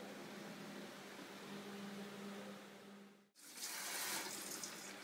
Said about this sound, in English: Putting in a bit of cold water?